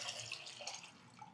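Sixteen ounces of water poured into a Toaks 750 camping pot, a short steady splash and trickle of liquid, fairly close and quiet, with no talking.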